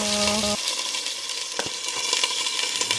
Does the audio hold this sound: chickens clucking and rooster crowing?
no